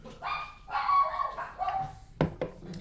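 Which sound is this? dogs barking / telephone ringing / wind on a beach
dogs barking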